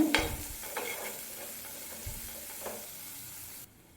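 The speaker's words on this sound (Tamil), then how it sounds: "ஒரு மீடியம் சைஸ் வெங்காய பொடியாக கட் பண்ணி அதை சேர்த்துக்கோங்க ஒரு கொத்து கருவேப்பிலை சேர்த்துக்கோங்க சேர்த்துட்டு நல்லா வதக்கிக்கோங்க" Chopped onion and a sprig of curry leaves sauté in a pan, with a light sizzle under a few scraping stirs of a spoon before the sound cuts off abruptly near the end.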